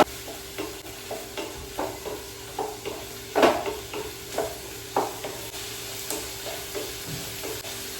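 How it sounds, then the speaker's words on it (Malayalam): Something is sautéed in a pan with a spatula, giving regular soft scraping strokes about every half second and one louder clank, over a low sizzle, close but quiet. "വഴറ്റി കൊടുക്കാം കേട്ടോ"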